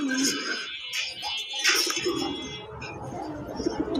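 A pair of king pigeons coo softly in a loft, low throaty murmurs running steadily and close by, with faint background noise.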